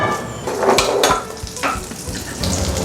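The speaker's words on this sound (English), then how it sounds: "let's cook the meat." Meat frying in a scratched Teflon pan in a hostel kitchen, a loud close sizzle with a few stirring scrapes over a short stretch.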